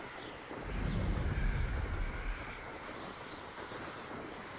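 A waterfall and rushing water in Hogwarts Legacy make a broad, steady roar that swells for a couple of seconds and then settles into a softer continuous wash, with no talking.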